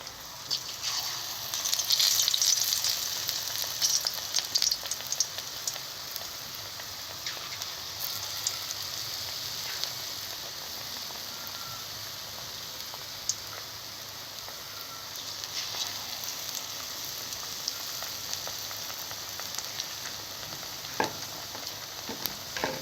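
Besan-coated carrot chops fry in hot oil, a continuous rain-like sizzle with small pops and crackles. It holds at a moderate level throughout, with a brief louder burst near the start.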